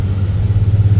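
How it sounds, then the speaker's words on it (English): A 2019 Kia Stinger's engine and exhaust give a steady, deep low rumble with a slight pulsing throb, close and fairly loud, with no talk. "The exhaust sound, the engine sound, it's something new."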